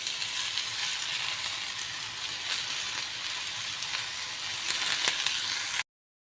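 Spinach fries in a hot pan with a continuous, moderately loud crackling sizzle and occasional sharper pops, then cuts off abruptly.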